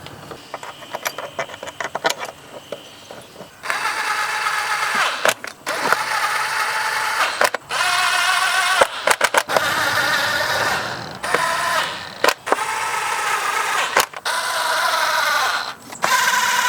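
Toyota Camry four-cylinder valve cover bolts and nuts being tightened with a ratchet, bursts of rapid clicking separated by short pauses, close and fairly loud.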